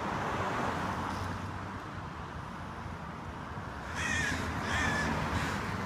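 Crows caw around an abandoned, demolished landmark building, two or three harsh calls arriving near the end over steady outdoor wind rumble.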